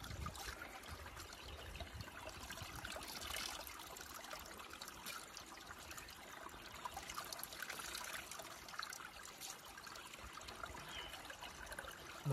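Cold spring water trickles steadily outdoors near a village, a faint, continuous babble with no speech over it.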